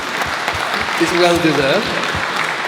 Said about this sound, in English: I would like to give you another round of applause if that's okay